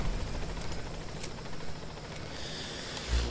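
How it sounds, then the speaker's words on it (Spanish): Helicopter rotor noise from the video game Metal Gear Solid V: The Phantom Pain, a steady, moderately loud whirring drone with faint rhythmic chopping over a low rumble, no talk. "o sea, para el helicóptero."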